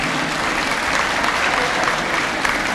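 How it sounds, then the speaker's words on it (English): A large crowd applauds steadily at a basketball jersey retirement ceremony, a dense, even wash of clapping that holds at full strength throughout. "It's a nice round of applause."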